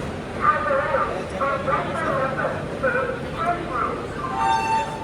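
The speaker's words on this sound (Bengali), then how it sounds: "আসানসোল থেকে আমাদের ট্রেন ছেড়ে দিয়েছে 4 নম্বর প্ল্যাটফর্ম থেকে।" A train departing platform 4 at Asansol rumbles along steadily with a low mechanical drone, while people chat nearby over the noise.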